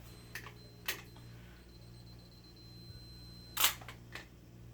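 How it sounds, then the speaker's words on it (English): A Minolta film camera's self-timer runs with a faint mechanical whir, punctuated by a few sharp clicks and one louder shutter-like snap, all quiet and close with no talking. "This thing here is a timer."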